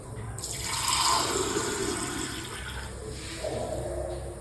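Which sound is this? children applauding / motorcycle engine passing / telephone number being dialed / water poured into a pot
water poured into a pot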